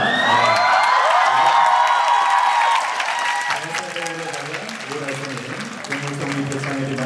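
Loud audience applause and cheering at a popular culture and arts awards ceremony, with shrill whoops and shouts over dense clapping at first, then clapping continuing under a presenter's amplified voice.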